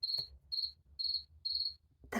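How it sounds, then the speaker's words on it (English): Crickets from a children's farm sound book chirp in four even, bright trilling bursts with short gaps between them, clear and alone over a faint low hum. "The crickets. That's a nice noise at night time."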